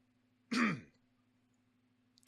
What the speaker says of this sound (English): Apologize for the coughing and shit.